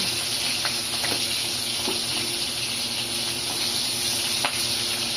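Green chillies fry in oil with black cumin for a pabda fish curry, giving a steady, even sizzle with faint crackles and no talk.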